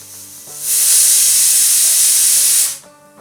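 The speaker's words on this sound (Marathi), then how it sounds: "हे कुकरला लावून त्याला 4 ते 5 शिट्या काढायच्या आहेत." Pressure cooker cooking black peas releases one loud, sustained steam whistle lasting about two seconds, a bright hiss that starts abruptly and cuts off, with soft kitchen background before and after.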